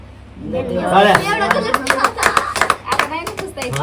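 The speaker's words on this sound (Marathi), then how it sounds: "टाळ्या." Several hands clap for a child's birthday celebration in a village, rapid uneven claps starting after a second and continuing close by under excited talking.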